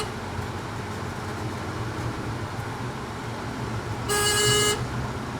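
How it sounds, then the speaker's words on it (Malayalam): Car horn honking once, a short loud blast heard from inside a vehicle over steady road and engine hum on a drive through Perumbavoor town. "നൈസ് ഹോൺ അടിച്ചു"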